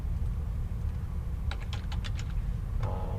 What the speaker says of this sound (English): I could type that in